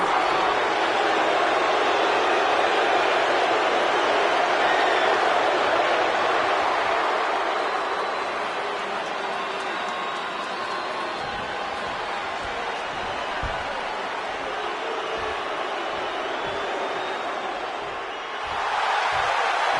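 Wrestling arena crowd at a WWE WrestleMania event, a loud sustained roar of disapproving boos and jeers filling the whole stretch, easing slightly midway before swelling again near the end.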